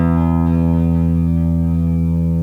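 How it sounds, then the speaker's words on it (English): An electric guitar played on its neck pickup through an optical spring reverb pedal gives one sustained, deep, fat chord that rings steadily with a warm, slightly distorted tone and no voices. "So check out when I just play the neck pickup."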